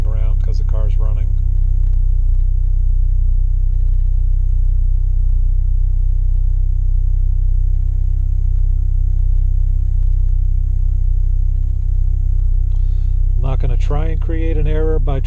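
A car engine idles with a loud, steady low rumble and hum throughout, while a voice talks briefly at the start and again near the end.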